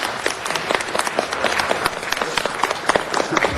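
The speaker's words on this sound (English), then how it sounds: "Colleagues, one round of applause for Barbara Greaves." Applause fills a Los Angeles city council meeting chamber, a dense, steady patter of many hands clapping at close range for several seconds without pause.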